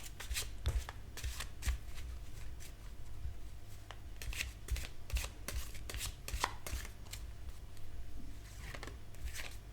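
Tarot cards are shuffled close up in a quiet meditation setting, giving soft papery riffles and light taps in an irregular rhythm with no talking.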